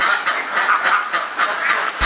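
Ducks on a dry-pen duck egg farm in Sleman, Yogyakarta, a flock quacking in rapid, overlapping bursts, loud and close, with a steady pulsing rhythm throughout.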